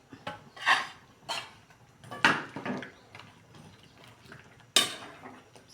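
Spoon clanking against a pot while carrots and potatoes are stirred into a stew, a few sharp scrapes and knocks spaced irregularly, close and fairly loud over a quiet background.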